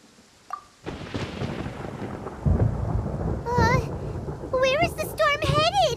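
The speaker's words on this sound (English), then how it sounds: "Paimon hears thunder!" Thunder in Genshin Impact rumbles low and heavy through the middle of the clip, partly masked by a character's high, animated voice talking over it near the end.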